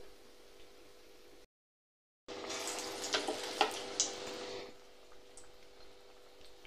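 Round onion pakoda fry in hot oil, a quiet background then a sudden surge of bubbling hiss with sharp crackles for about two seconds, settling back to a softer sizzle.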